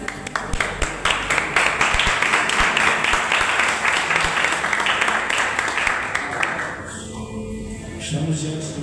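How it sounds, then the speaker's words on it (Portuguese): A church congregation breaks into clapping, with sharp individual claps at first that quickly build into loud, dense applause, then fade out near the end as voices take over. "amém, e aplaudir o Senhor"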